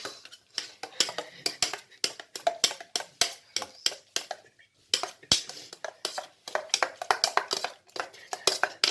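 A spoon stirs a noodle mixture for martabak in a bowl, producing quick rhythmic clinks and scrapes of utensil against the dish, close and continuous with short pauses.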